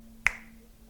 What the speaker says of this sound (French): semblables à un claquement de doigts pour déclencher le réveil